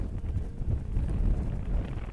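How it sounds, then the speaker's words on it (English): Strong wind buffets the microphone on an exposed mountain summit, a loud, continuous low roar with gusty surges throughout. "God, bloody hell, it's windy up here"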